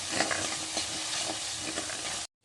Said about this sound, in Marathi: थोडीशी तर फोडणीत कोथिंबीर घालून घ्यायची आहे